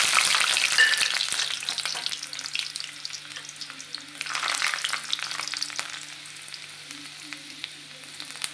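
Garlic fries in hot oil in a pan, a loud, bright sizzle that flares at the start and again midway, with faint tapping from stirring and a low steady hum beneath, no talking.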